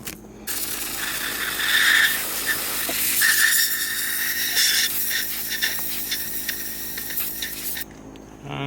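A can of brake cleaner sprays in one long, steady hiss for about seven seconds during final assembly work on a John Deere TC44H, then cuts off abruptly, with faint squeaks and rubbing underneath.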